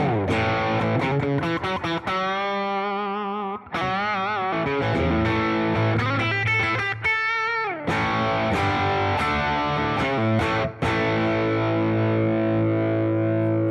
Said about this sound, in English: So Enchanter on. Let's listen to a little humbucker action.